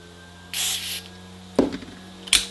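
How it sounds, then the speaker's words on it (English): DeoxIT D5 contact cleaner sprayed into a room control switch on a NuTone intercom master station: a short hiss followed by two faint clicks, over a low steady hum. "When you spray the deoxit D5 in there, it gets onto the contact surfaces of the switch"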